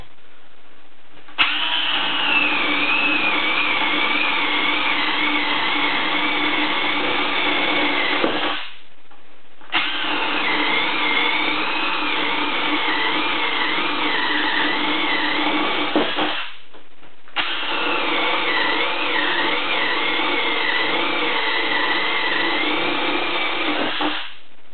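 A Milwaukee 2601 compact cordless drill on speed 2 drills into wood in three long, steady bursts of whirring motor noise, each lasting several seconds with brief pauses between.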